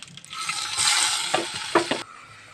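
Finely chopped onion dropped into hot oil with cumin and curry leaves, a sizzle that swells loudly, a few stirring scrapes, then cuts off abruptly after two seconds.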